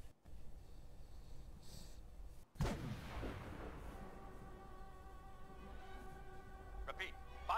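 An artillery barrage in Fallout 4: after a brief dropout, one heavy boom hits, followed by a long rumbling decay with tonal hum, and a voice talking over it.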